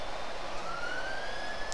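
Police siren sounding outside, a faint wailing tone rising slowly in pitch over a steady background hum, heard alone without talk.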